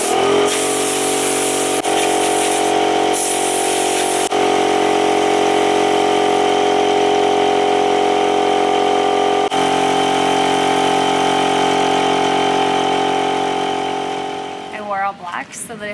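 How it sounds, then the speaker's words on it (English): An air compressor runs in a home workshop during kitchen-makeover prep, giving a loud, steady droning hum with a constant tone that carries on without a break and fades away near the end. "this air compressor that Kyle has become like one of my favorite tools"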